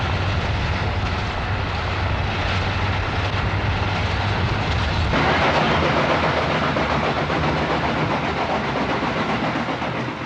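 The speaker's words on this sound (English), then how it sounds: "Businessmen fly to their destinations, reporters take trains. And the rail journey to Cairo is like Egypt itself." Train running on rails on the journey to Cairo, Egypt, a continuous loud rumble with rhythmic clickety-clack of wheels, shifting in tone partway through.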